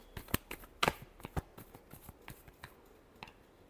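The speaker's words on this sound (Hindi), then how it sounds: "Last shuffle." Tarot cards being shuffled by hand, a series of crisp close riffles and slaps, loud at first and then softer taps, with no talking.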